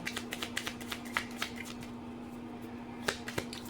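Rapid flicking and riffling of tarot cards being shuffled close by, a quick burst, a pause, then a few more snaps, with a faint steady hum.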